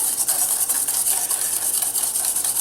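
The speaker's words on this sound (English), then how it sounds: "we're going to just lightly whisk the egg yolks" A hand whisk beats egg yolks with a pinch of salt in a bowl for buttercream, making a steady, rapid, close scraping rhythm with no talk.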